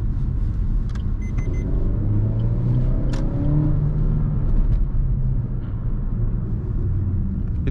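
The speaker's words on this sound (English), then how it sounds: "Once the turbo kicks in, it pulls good all the range to 5000 RPM" A Suzuki Vitara 1.4 turbo Allgrip with a six-speed manual gearbox accelerates through city traffic, its engine a steady low rumble that swells under throttle, heard continuously from inside the car.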